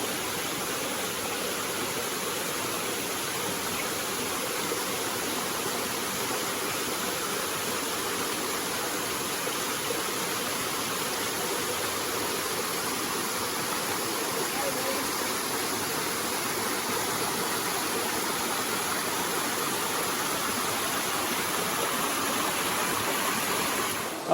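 Constant roar of a big waterfall in a jungle, broadband rushing water holding steady and loud throughout, with no talk.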